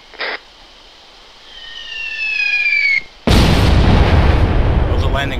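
Mortar rounds landing close during a military field training exercise, a sudden heavy blast followed by a loud sustained rumble after a quieter stretch with a falling whistle-like tone and a sharp earlier crack.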